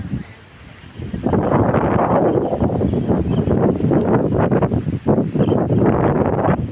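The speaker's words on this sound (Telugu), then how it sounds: "గాలి అయితే చల్లని గాలి అవుతుంది" Cold wind blows outdoors and buffets the microphone. After a quieter first second it becomes a loud, steady, gusty roar.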